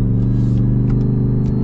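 Ford F-150 Super Snake pickup truck engine heard from inside the cab, a loud, steady low rumble holding a deep idle tone with light rhythmic pulsing and no talk.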